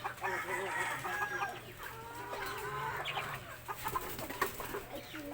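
Backyard pet chickens cluck and chatter near and far, overlapping calls with a brief crow-like note amid a low outdoor hum, fairly quiet overall.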